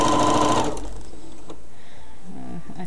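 A sewing machine stitching a baby bib runs in a quick, buzzing burst up close for under a second, then stops, leaving a quiet room with faint handling noises.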